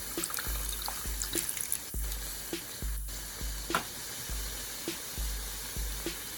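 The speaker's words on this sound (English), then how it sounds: "I'm going to be using the water from the can. So I'm just going to pour it in there." Water from a can pours into a hot pan of arroz con salchicha in short splashes, each followed by sizzling, with repeated low thumps and scraping at a steady pace, close up.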